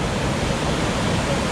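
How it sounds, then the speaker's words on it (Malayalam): Water plunges from a great height at Marmala waterfall on a forest off-road route, a loud, steady, broad roar that fills the scene with no other sounds. "നല്ല ഹൈറ്റിനാണ് വെള്ളം ഒഴി വരുന്നത്"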